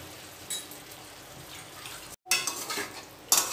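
Katla fish curry is stirred in a pan after salt and sugar go in: a soft steady sizzle with a spoon scraping and clinking against the metal, a brief break, then louder stirring clatter near the end.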